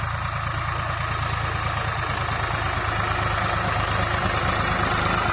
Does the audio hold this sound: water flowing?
no